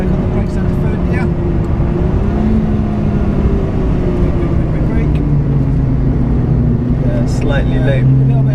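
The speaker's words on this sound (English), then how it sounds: "We are now in the Exige Cup R, correct, Danny?" Lotus Exige Cup R race car driven on track, its engine droning loud and steady from inside the cabin with pitch shifts as it accelerates and brakes, no talk over it.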